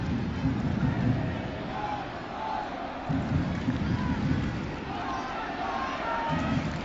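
Large soccer crowd in Section 8 at Toyota Park during a Chicago Fire versus Colorado Rapids match, a broad, continuous roar of chanting and cheering heard from a distance, swelling and easing in waves.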